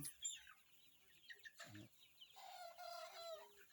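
Chickens on a poultry farm cluck and call in a quiet pen, with a short squawk and a longer crow-like cry near the end, fairly faint and with no talk.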